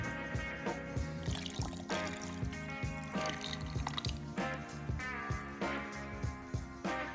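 Cold milk poured into a strawberry smoothie mix, a soft, continuous liquid trickle and splash with small dripping pulses, faint and close.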